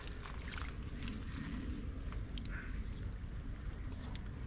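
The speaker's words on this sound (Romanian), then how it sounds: "Acum s-a pornit un vânt astăzi foarte puternic" Steady, broadband strong wind rushing across the microphone outdoors at a carp fishing lake, with a constant low roar and faint splashes of water underneath.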